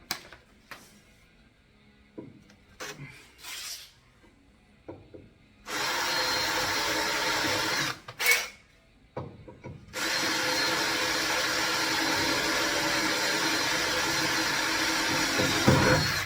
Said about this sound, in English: I'm gonna drill them out